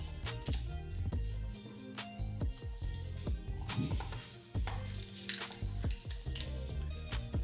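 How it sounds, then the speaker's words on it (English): Knife chopping a block of butter into chunks on a kitchen surface, a steady run of quick, close tapping and clicking cuts with no talking. "I'm just cutting this butter up into those chunks"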